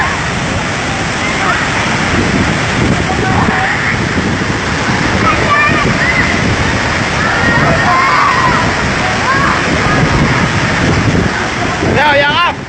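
Mother Falls in Baler, Aurora pours in a loud, constant rush of water close by, with sloshing and wind buffeting the microphone throughout and a brief sharp disturbance near the end.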